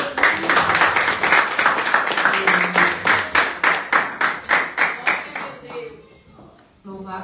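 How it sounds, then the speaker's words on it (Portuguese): A church congregation at a deliverance service claps hands in unison, a loud, regular rhythmic beat that carries for several seconds before tapering off, with voices faintly underneath and a speaker resuming at the end. "Engrandeça Ele com as suas palmas e glórias a Deus"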